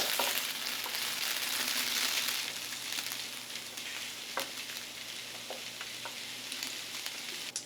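Continuous crackling sizzle of Orbeez frying in hot deep-fryer oil, water boiling inside them, with scattered sharper pops over a steady hiss, close and fairly quiet.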